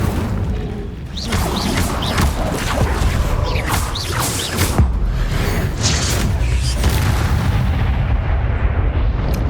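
The Incendio fire spell is cast in combat in the video game Hogwarts Legacy, with loud, dense blasts, crashes and booming impacts coming in rapid succession and faint voices mixed in beneath.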